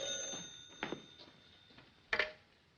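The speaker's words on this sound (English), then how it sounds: "Answer the phone." An old 1940s household telephone rings in a quiet room: two short, faint bell bursts about a second apart, with nothing else heard.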